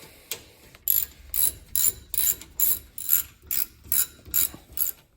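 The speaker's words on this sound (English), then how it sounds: "And then we can go ahead and tighten them with our ratchet" A hand ratchet tightens rear brake caliper bolts on a RAM truck, giving about ten sharp rhythmic clicking strokes in close, steady succession.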